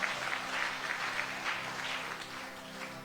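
A church congregation applauds during worship, with many hands clapping in a loose pulsing rhythm at moderate loudness that holds steady throughout.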